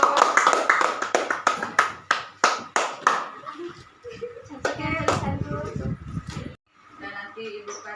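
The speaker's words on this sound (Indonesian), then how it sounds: "tepuk tangan untuk kelompok 2" A classroom group of pupils claps for group two, a brisk burst of sharp hand claps that thins out, followed by a teacher speaking and children's chatter.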